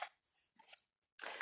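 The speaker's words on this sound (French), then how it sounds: "vous fignolez avec vos ciseaux, là, pour arriver à ras de votre trait" Scissors cut slits into a notebook cover, close and faint, with a few short separate snips and scraping cuts between brief silences.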